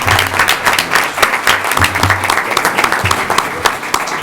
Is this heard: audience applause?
yes